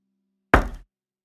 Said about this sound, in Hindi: कोई दरवाजा खटखटा रहा था।